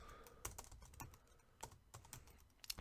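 Keystrokes on a computer keyboard while programming a robot, a quick uneven run of sharp clicks with short pauses, close and moderately quiet with no talking.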